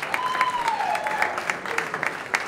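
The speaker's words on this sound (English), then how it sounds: "Can I get a warm round of applause for Bella?" Scattered clapping from a tech startup event audience, uneven and moderately close, with a thin tonal hum running underneath.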